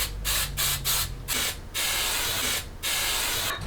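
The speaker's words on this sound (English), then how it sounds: "So what you're gonna wanna do is hit it with some spray paint. Or hairspray." Several short bursts of hairspray hissing close by, about six blasts of varying length separated by brief pauses.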